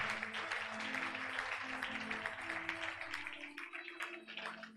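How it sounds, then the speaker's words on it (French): A church congregation applauds for Jesus with a faint, steady patter of many hands clapping, while a low voice or organ-like tones murmur underneath. "Acclame très fort pour Jésus"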